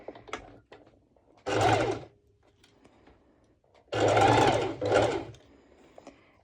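A sewing machine stitches the bust seam of a one-shoulder twisted knot top in three bursts, one short run followed by two longer runs after a pause, close and fairly loud with quiet handling noises in between.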